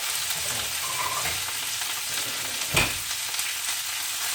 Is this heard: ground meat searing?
yes